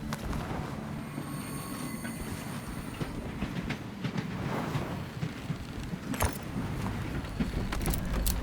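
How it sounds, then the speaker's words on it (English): A train in the video game Voidtrain rumbles past with a continuous rolling clatter and occasional sharp metallic clicks, fairly close and steady throughout, with no one speaking. "Okay, that's another train."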